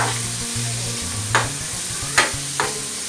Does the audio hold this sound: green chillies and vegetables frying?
yes